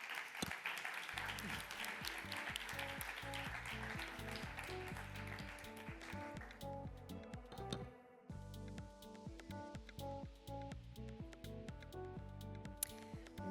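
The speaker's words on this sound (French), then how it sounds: "Voilà, on peut l'applaudir à nous." Audience applause at a European education awards ceremony in France greeting a prize winner, steady dense clapping that runs alongside loud music throughout, briefly dipping near the middle before resuming.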